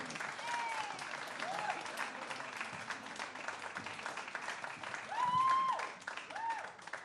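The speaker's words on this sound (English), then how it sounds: "can we have some applause?" Fairly faint audience applause welcoming a comedian at a small comedy night, steady clapping with a few whoops and cheers rising briefly near the end.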